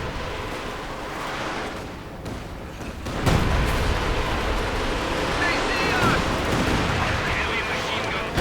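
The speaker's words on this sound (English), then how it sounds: "Lots of rockets being lobbed in different directions." Rockets and gunfire from a war strategy game with Soviet IS-2 tanks form a dense, rumbling barrage. It swells louder partway through and blends under a commentator's voice.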